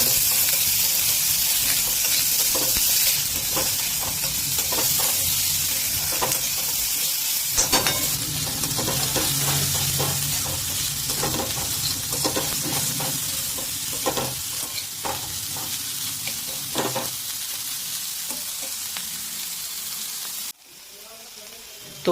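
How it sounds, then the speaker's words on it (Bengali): Chopped onion frying with garlic in a pan for puffed-rice snack prep, a steady loud sizzle with occasional stirring scrapes throughout, cutting off near the end. "দিয়ে এবার এটাকে এর সাথে ভালো করে একটু ভেজে নিতে হবে পিঙ্ক কালার হওয়া পর্যন্ত।"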